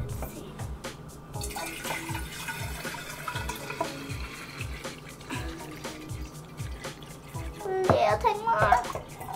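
Tap water runs steadily into a jar nearby, with a child and an adult talking over it as the filling sound rises near the end.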